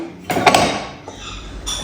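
Roasted spices are tipped into a metal mixer jar, giving a short clatter and clink of metal on metal and then a quieter scrape.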